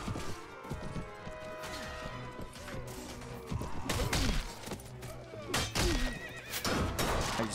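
Horse neighing in the Mount & Blade: Warband video game (Prophesy of Pendor mod), a loud whinny amid clashing battle sounds and hoof clatter, with strong crashing hits recurring through the middle and end.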